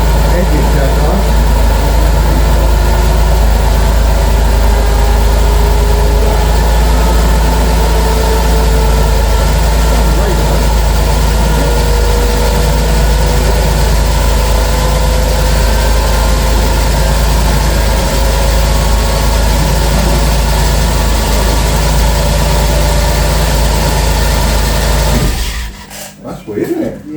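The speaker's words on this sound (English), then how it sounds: "Engine sounds nice." A fleet vehicle engine idles steadily and loudly up close for a long stretch, a low even rumble with a faint voice underneath, cutting out abruptly near the end.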